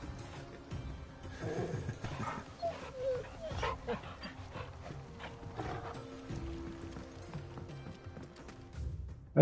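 A dog in Final Fantasy XVI gives soft whimpers and snuffling sounds, close by, layered over steady in-game ambience and a rhythmic clopping like hooves or footsteps.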